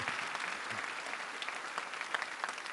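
Audience applause at an academic award ceremony, a steady wash of many hands clapping in a large hall, fairly distant and even, with no voices over it.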